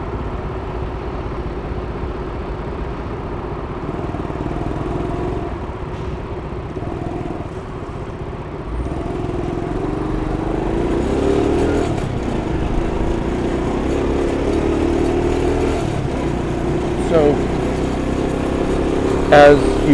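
A scooter ridden through New York City traffic, its engine humming steadily up close with wind rush, rising in pitch and loudness partway through as surrounding vehicles pass, while someone talks over it.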